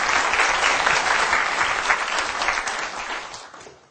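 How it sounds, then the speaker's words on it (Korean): Lecture audience at a CEO talk gives a round of applause: dense, even clapping from a crowd, steady and fairly close, fading out toward the end. "다시 한번 큰 박수를 부탁드리겠습니다"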